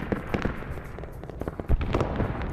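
Player-called artillery fire in Arma 3 SOG Prairie Fire during a defense of Khe Sanh, heard as a rapid string of sharp blasts and crackling booms, with a heavier thump near the end.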